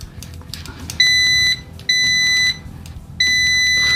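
ANENG AN998 budget multimeter in continuity mode, giving three loud, shrill beeps of about half a second each, spaced by short gaps, with faint handling noise between them.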